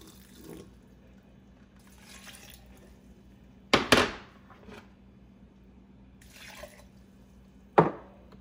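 Water for homemade oat milk is poured from a cup into a blender holding oats, heard as a few brief, close splashing bursts separated by quiet pauses.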